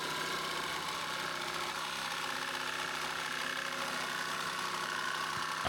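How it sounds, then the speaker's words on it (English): A jigsaw cuts slowly around the corners of a wood piece, a steady faint buzzing motor drone with a rapid reciprocating rattle, continuous and without speech. "I'm just rounding them corners over now with a jigsaw."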